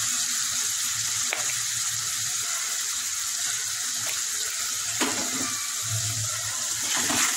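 Spice masala with salt and turmeric sizzles in a pan for a Bengali giant taro and barramundi curry: a steady, close frying hiss throughout, punctuated by a few sharp stirring scrapes.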